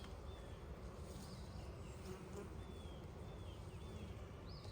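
Honeybees in an opened hive being checked for queen cells, a faint steady buzzing drone with occasional individual bees passing near.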